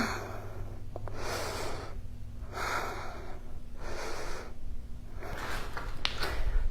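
Heavy, rhythmic breathing while holding a side plank in a full-body circuit workout: long loud breaths in and out, about four cycles, close to the mic over a steady background hum.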